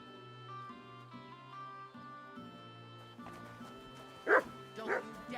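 A dog in the medieval video game Kingdom Come: Deliverance 2 gives a couple of sharp barks over a soft musical background, with a voice talking before them.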